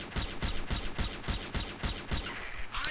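An SR-25 Sandfire sniper rifle fires on full auto in the shooter game Combat Arms, a rapid even run of about nine loud, punchy shots before a short pause and a faint mechanical clatter.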